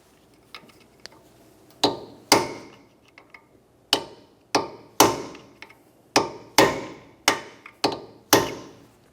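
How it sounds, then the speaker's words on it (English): A punch struck with a hammer to peen a front axle nut into its notch on a 2006-2011 Honda Civic: about a dozen sharp metallic blows in an irregular rhythm, close and loud with quiet gaps between. "use the punch and drive the nut down into that slot"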